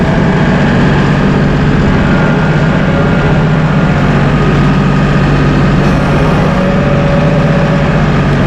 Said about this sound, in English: When you're driving your Massey Ferguson, we'll give her a little more RPM.